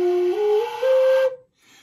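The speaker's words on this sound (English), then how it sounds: "If you have it too far back, you'll get a real breathy sound like this." A Native American style flute played with its block set too far back gives one sustained, breathy, airy note with strong overtones. It holds steady for over a second, cuts off, then a faint breathy puff follows.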